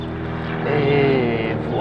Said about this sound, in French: un petit avion, un petit coucou qui vient vous raser au-dessus de la tête